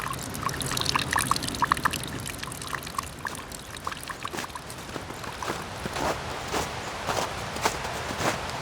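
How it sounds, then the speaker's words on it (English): Boots crunching and patting down snow on a forest trail near a river falls, steady repeated steps at close range with soft crisp compressions, no talking. "The crackling and crunching of leaves, twigs, and gravel under your shoes is replaced by snow being patted down by your boots."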